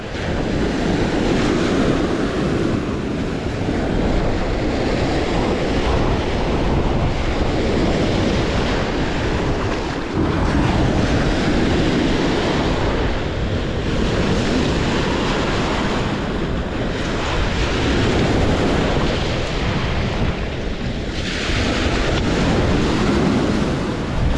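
Strong wind gusting across Point Betsie beach on Lake Michigan in August, buffeting close against the microphone with steady surf crashing beneath, loud and continuous throughout, swelling and easing in waves of roar.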